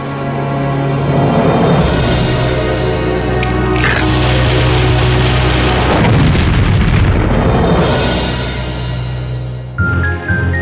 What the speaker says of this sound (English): Finally, the cannons of Urban, the best student of Byzantine ballistic school